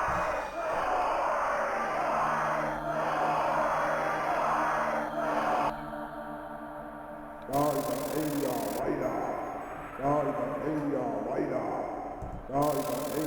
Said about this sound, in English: they kept cheering on David, the great mage, as he completed the ritual